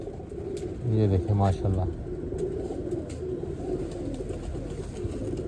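A perched pigeon coos in a short, low burst of repeated throaty notes up close, followed by a steady background hum while someone talks briefly.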